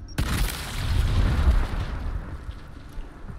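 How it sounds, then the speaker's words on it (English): A frag grenade detonates in the Gears Tactics video game, giving a sudden loud boom with a heavy low rumble that rolls on and fades over about three seconds, with no voices. "Throwing frag!"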